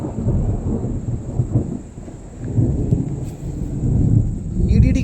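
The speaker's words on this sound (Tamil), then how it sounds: "இப்படி பண்ணினா எப்படி பாரு, இடிக்குது இடிக்குது." Deep thunder rumbles rolling through an approaching storm, sustained low booms that swell and recede, with the rumble growing heavier toward the end; no clear speech.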